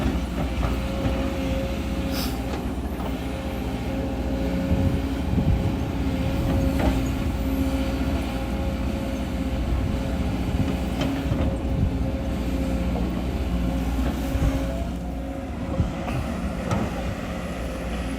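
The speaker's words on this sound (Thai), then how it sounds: "เทเลอร์ก็ต้องมีแมคโครนะ เลยลองตามเข้ามาก็เจอครับคุณผู้ชม" A Sumitomo SH210-F6 excavator dredging a canal, heard as a steady low diesel drone with continuous mechanical rumble and occasional clanks throughout, fairly loud and without speech.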